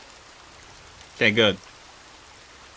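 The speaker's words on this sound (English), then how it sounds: "It's raining a little bit here." Light rain falls in the survival video game Sons of the Forest, a faint, steady hiss that runs through the whole stretch while someone speaks briefly in the middle.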